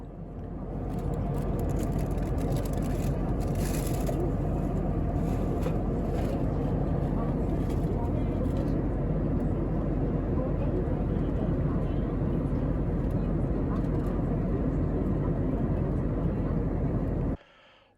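Steady, loud broadband engine and airflow roar of an IndiGo airliner in flight over Hyderabad, unbroken and constant, ending abruptly.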